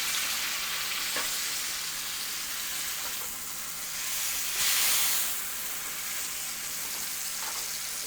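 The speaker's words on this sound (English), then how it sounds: "Searing it on all sides, using that lip to really get that top half." Beef for a beef Wellington sears in a hot pan, a loud, continuous close sizzle and hiss that swells briefly midway and holds steady throughout without speech.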